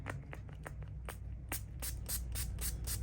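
Several short hissing bursts of leather protector sprayed onto a sponge in quick succession, close up, each a brief puff of aerosol over a low background hum.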